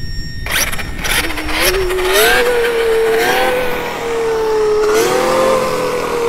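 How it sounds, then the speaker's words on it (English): An Arrma Kraton EXB 8S radio-controlled car driving in the desert, with a high electric motor whine rising and holding under throttle after a few short bursts, loud and close. "Arrma Kraton EXB 8S going to do backflip"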